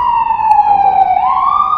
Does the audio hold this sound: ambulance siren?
yes